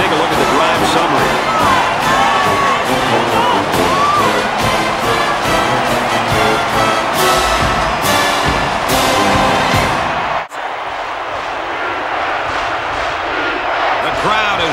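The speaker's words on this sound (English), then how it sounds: "The crowd is really letting them hear it." A loud, dense football stadium crowd from a video game roars and cheers continuously, dipping sharply near the end before resuming, while a commentator talks over it.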